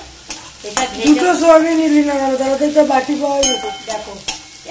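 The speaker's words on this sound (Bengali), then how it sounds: "পেঁয়াজ আর রসুনটা আবার ভালো করে ভেজে নেবো লাল লাল করে" Onion and garlic sizzle in hot oil in a pan while being stirred, with sharp scraping strokes of the utensil cutting through the steady frying hiss.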